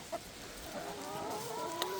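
A backyard flock of chickens clucks softly at a distance, with a few faint, brief calls over a steady low outdoor background.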